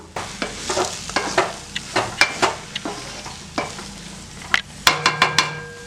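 Rava upma being stirred in a pan for hotel-style rava kichadi, with a spoon scraping in repeated short strokes over a steady sizzle, close and fairly loud with no talk.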